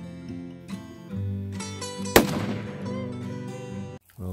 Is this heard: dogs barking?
no